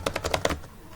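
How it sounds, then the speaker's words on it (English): Quick, light keystrokes on a computer keyboard, about five crisp taps in rapid succession and then a short pause, close and clear with no talking. "I just have to click and do some typing"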